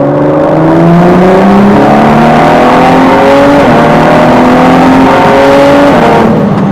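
A 2017 Ford GT engine pulls hard at full throttle on a straight test track at Michelin, its loud, close roar climbing steadily in pitch through the gears with rising harmonic tones for several seconds before easing off.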